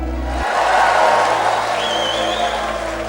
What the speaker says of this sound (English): Everybody clap right there.